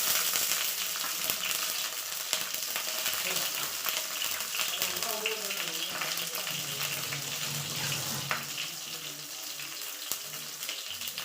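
Mustard seeds, curry leaves and green chillies fry in hot oil for a kosambari tempering, giving a loud, steady, hissing sizzle with faint crackles throughout.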